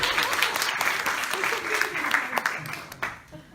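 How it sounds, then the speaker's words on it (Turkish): A room full of people at a panel gathering applauds steadily, with a few voices mixed into the clapping. "Çok bir alkışla gönderelim"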